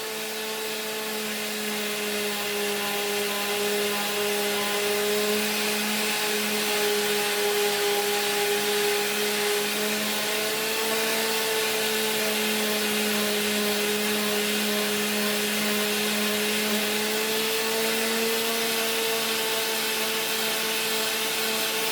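Power sander working the wooden cabinet of an LS3/5a loudspeaker, a steady, loud motor whine with stable tones that dips slightly in pitch around the middle and near the end as pressure changes, running continuously without talk.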